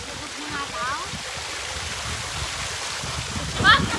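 Water rushes and ripples steadily at a resort and ecology park in Batangas. Voices and splashing from people in the water sit over it, with a brief louder splash near the end.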